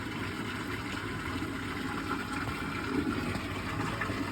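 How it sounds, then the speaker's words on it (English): A sewage pump runs steadily, pumping water out with a constant broadband whooshing hum and gurgle at close range, without pauses or voices. "The pump is running."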